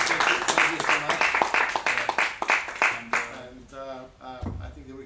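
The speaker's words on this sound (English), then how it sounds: "I think perhaps a round of applause, and thank you so much." An audience claps briefly after a lecture in a spring lecture series, with scattered, fairly close handclaps that fade out in the second half while a voice speaks.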